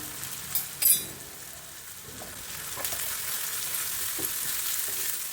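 Three medium onions, finely chopped, fry with cumin in a pan on a home kitchen stove, giving a steady close sizzle with a few louder clatters of stirring near the start and no talking.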